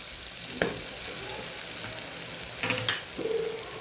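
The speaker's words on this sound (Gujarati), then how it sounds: "વ્યવસ્થિત આપણા મસાલા સતળાઈ જાય તો આપણા શાકની અંદર મસાલાનો સ્વાદ પણ બેસી જશે" Spices sizzling in a pan for a bottle gourd curry, a steady close frying hiss broken by a few sharp clinks and scrapes of stirring, with no voices.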